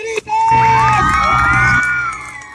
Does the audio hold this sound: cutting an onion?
no